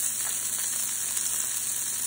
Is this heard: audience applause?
no